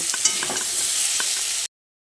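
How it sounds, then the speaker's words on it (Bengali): A steady sizzle of sliced ridge gourd frying in a pan with light stirring scrapes, close and continuous, then cutting off abruptly. "ঝিঙেটাকে আমি সুন্দর করে ভেজে নিয়েছি"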